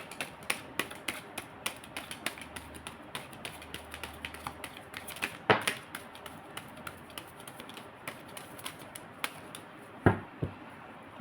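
A deck of tarot cards is shuffled by hand, giving a steady run of soft, crisp clicks and taps over about eleven seconds, with a couple of sharper snaps near the middle and end.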